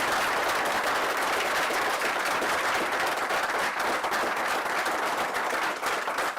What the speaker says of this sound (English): May I get another round of applause for those young people